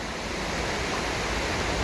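The Valira, Andorra's main river, rushing steadily as a broad continuous wash of water noise, close and moderately loud, with no voices.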